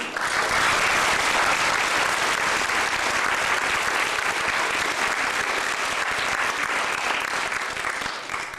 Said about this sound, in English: Can you please give a warm round of applause to Kristopher's dad, Kelly